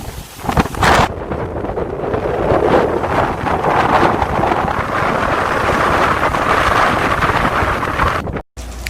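Strong wind buffets the microphone at the end of a street overlooking the ocean near a marina during Hurricane Laura, a loud steady roar with gusty rumbling that cuts out abruptly near the end.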